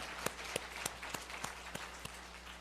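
A church congregation at a Sunday worship service claps in unison, sharp evenly spaced claps about every quarter second, fairly distant and soft over a low room hum.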